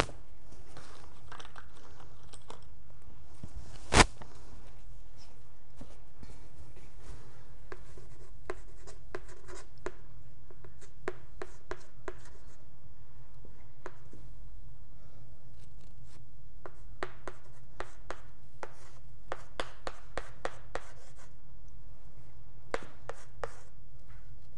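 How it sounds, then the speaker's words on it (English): Marker or chalk writing on a board during a university lecture, steady scratchy strokes in short bursts with pauses, fairly faint against a quiet room hum, one sharp knock near the start. "let me just write it on here"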